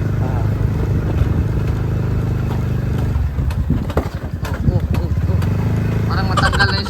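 A motorcycle engine running with a steady low rumble, joined by people talking and some clattering toward the end.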